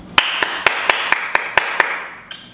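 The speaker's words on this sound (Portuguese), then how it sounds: "Você realmente merece aplausos." A single person claps steadily about eight times, each clap sharp and evenly spaced, close by and loud against a quiet background.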